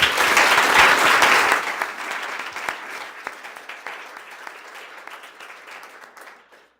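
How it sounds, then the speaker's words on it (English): Audience applause for a panel of speakers at a health conference, a loud burst of dense clapping that thins out and fades over several seconds. "Let's give them a round of applause."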